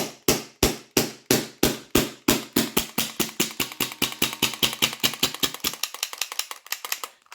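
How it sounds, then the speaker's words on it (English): Gas vents from a Sabre 68 home defense launcher magazine in a quick series of sharp, loud pops that gradually speed up and fade, ending in fainter, thinner bursts. "So I'm just going to degas this magazine."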